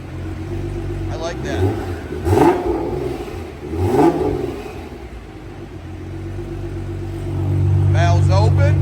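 A Nissan GT-R with a 4.1L twin 66mm turbo V6 and a 4-inch Boost Logic valved exhaust, valves closed, idles with a deep rumble after a cold start and gives two throttle blips. Someone speaks briefly over it.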